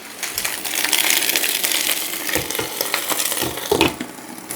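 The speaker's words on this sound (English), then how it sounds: "While my bok choy finishes cooking up" Bok choy sizzles in a hot pan with a steady frying hiss, punctuated by a few scraping stirs of a utensil.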